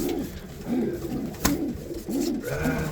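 A pigeon hen on her nest coos in repeated low, rounded phrases, close and clear, with a brief sharp knock in the middle.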